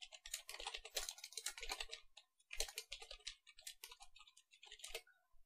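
Computer keyboard typing while entering an address into an online e-stamp paper application form, with bursts of rapid clattering keystrokes separated by short pauses, close and fairly quiet, with no talking.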